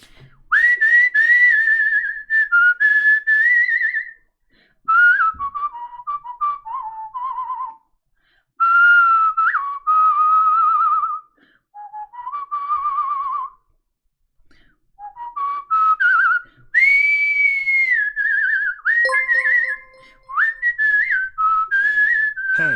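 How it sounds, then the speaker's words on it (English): A person whistles a melodic tune alone, loud and close, in a series of phrases of varying pitch separated by short breaths and pauses, with no talking. "the easiest thing I can whistle to a good degree"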